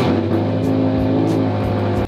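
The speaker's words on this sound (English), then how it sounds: "then we're going to start the car" A Subaru car engine, just started, runs with a steady low rumble and humming drone, close by and continuous, with no voices.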